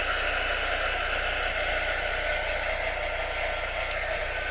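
A heat tool blows hot air on its high setting to dry a chalk-paint Halloween sign, giving a steady, loud, unbroken whoosh with a constant motor hum and no break for the whole stretch.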